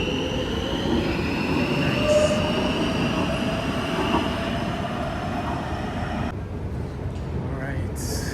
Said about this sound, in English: Alright, so that was the train I just got off of.